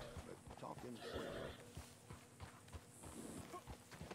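A donkey's hooves clip-clop in steady, even steps while it is ridden in the Western video game Red Dead Online. The footfalls are moderately close and sit under continuous game ambience and voices.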